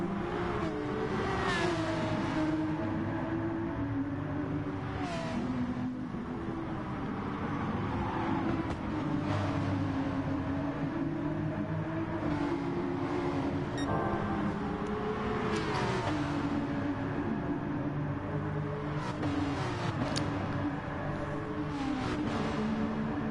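Race car engines in the Gran Turismo Sport video game, continuous revving with rising and falling pitch as gears shift, several cars passing, moderately loud with no voices.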